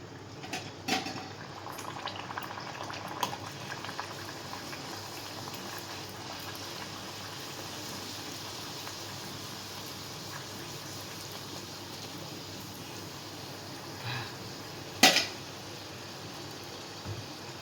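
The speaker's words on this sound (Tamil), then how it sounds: "எண்ணெய் நல்லா காய வச்சுருக்கேன் காஞ்சுன்னு நல்லா காயிட்டு பூரி போடுறத பார்க்கலாம்" Puri frying in hot oil gives a soft, steady bubbling that runs throughout, with a brief clatter near the end.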